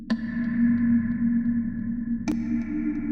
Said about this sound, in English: Actually, this is something from the bottom of the sea. A sonar.